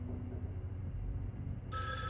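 In the Erica video game, a telephone bell starts ringing abruptly near the end, sharp and bright after a quiet, low ambient room hum.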